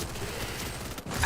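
Gunfire in an esports match of a battle royale shooter, a dense burst of rapid shots rattling continuously for about a second before a brief gap and another volley, loud and close with no talk over it.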